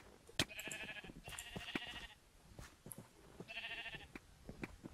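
Sheep in the Minecraft video game give several short, nasal synthetic bleats in quick clusters over scattered clicks and game effects.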